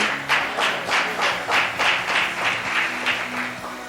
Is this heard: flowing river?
no